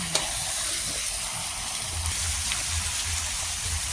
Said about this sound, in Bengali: লাইট ভাবে পেঁয়াজ দিয়ে একটু হালকা সোটে কষাও, ভালো করে জমিয়ে কষাও